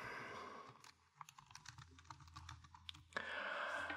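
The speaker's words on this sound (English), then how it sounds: "Just type a few notes here." Quiet, close keystrokes tap irregularly on a computer keyboard as notes are typed, with soft clicks over a faint background hum.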